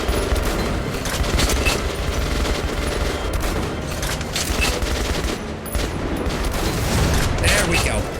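Heavy anti-tank rifle fire and other gunshots ring out in the Metro video game, a dense, continuous barrage of loud bangs with clattering mechanisms, with no clear gaps between the blasts.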